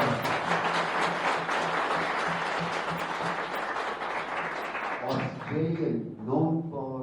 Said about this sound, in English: Thank you, kids. You can all clap